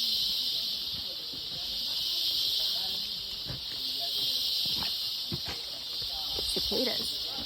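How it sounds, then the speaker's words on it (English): Large groups of cicadas in a Costa Rica forest give off a steady, loud, high droning buzz that fills the whole stretch, with faint rustles and scattered low sounds beneath it. "The sound of cicadas."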